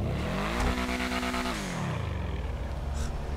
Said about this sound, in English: The best part of this isn't even the revs. It's when you take your foot off and it does the roar at the end.